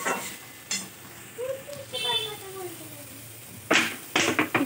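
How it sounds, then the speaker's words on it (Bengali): Water is poured into sautéed soybean chunks in a hot pan, producing sharp hissing sizzle bursts near the end, preceded by light clinks and someone speaking over quiet background. "এবার আমি দিয়ে দেবো জল।"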